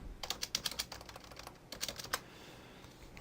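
Someone types on a computer keyboard in quick, close, crisp bursts of keystrokes, with a short pause partway through, then stops, leaving a faint room hiss.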